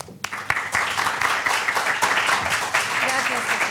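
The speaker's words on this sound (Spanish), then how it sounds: "les pido un aplauso para ella" Clapping from an audience greeting a speaker at an education talk in Tenerife starts abruptly and continues as a dense, fairly loud ovation, with some voices mixed in.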